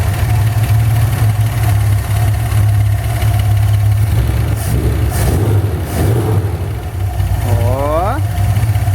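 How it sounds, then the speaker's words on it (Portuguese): A Chevrolet Opala 250 straight-six runs at a steady idle close by, its low rumble constant throughout. Voices talk over it, and a brief rising chirp cuts in near the end. "Puminha, motorzinho 250 de Opala."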